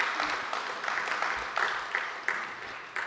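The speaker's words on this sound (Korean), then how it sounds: "우리 박수로 환영하도록 그렇게 하겠습니다." Moderate applause from a church congregation welcoming visiting missionaries, a soft, even patter of many hands continuing throughout at a low level.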